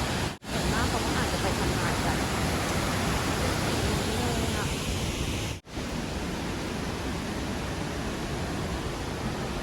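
Lechfall waterfall in Füssen, Germany, a dense, constant roar of rushing water that fills the whole stretch, loud and close, with two brief dropouts.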